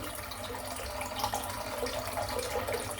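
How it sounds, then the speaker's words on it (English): Tap water runs steadily into a bathroom sink during a head shave, making a soft, continuous splashing trickle with small fluctuations and no voices. "Put a little bit of water back in the sink here."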